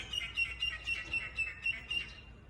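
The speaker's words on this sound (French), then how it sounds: "par ce soleil radieux avec ces oiseaux que vous pouvez entendre" Songbirds chirp outdoors on a sunny day in a quick, evenly spaced series of high, thin calls, fairly faint and with no talking.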